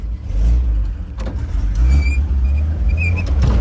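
A 1953 Chevy truck pulls away, a low steady engine rumble close by with rising revs, alone without talk.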